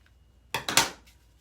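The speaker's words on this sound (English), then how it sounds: "we are going to just cut, and we'll just do a messy ribbon" Scissors snip through ribbon for a Halloween craft: three quick, close cuts in a short burst, crisp and bright, followed by a faint rustle, with no talking.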